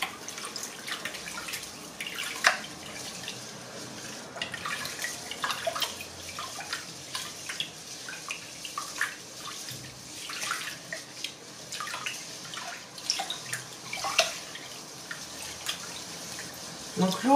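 Sushi rice is rinsed and gently stirred by hand in a bowl of water to wash off excess starch, giving soft sloshing and trickling sounds with small splashes throughout, close and steady.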